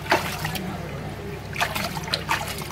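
Water is poured and splashed over vivarium decor to rinse off dirt, a close trickling and spattering in short bursts over a low background hum.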